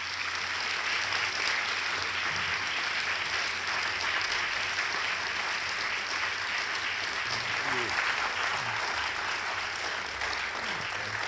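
A large audience gives sustained, even applause to welcome Natan Sharansky and Michael Douglas onto a conference stage, a continuous wash of clapping at steady loudness with no pauses throughout.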